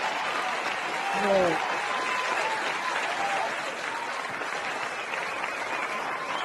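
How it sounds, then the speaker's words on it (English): An audience at an entrepreneur event applauds, a steady wash of clapping that swells briefly early on and then holds evenly, with a voice calling out over it. "Let me get y'all some round of applause."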